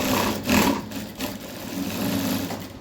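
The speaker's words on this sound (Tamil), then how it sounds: "இது வந்து ஃபீடாக வந்து இடிக்கிற சவுண்டு." Singer 9900 sewing machine running with its feed knocking, a continuous mechanical whir carrying repeated dull knocks, moderately loud and close, with no voices.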